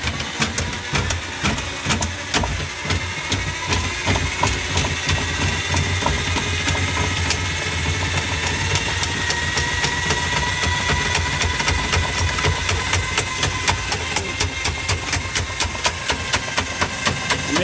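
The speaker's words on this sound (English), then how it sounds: "So I'm going to bring that auger out." A drain auger machine runs in reverse while clearing a clogged sink drain, giving a continuous, loud mechanical whir with rapid clicking and ticking that holds steady throughout.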